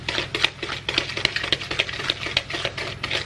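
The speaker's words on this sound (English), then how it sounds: "I'm gonna whisk it" Sugar being whisked by hand in a bowl for banana bread, a quick, steady run of close scratchy scraping strokes with no voices.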